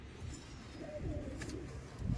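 Andhra pigeons, a fancy pigeon breed kept by a fancier, coo softly and continuously in a low murmur, with faint chirps and background noise around them.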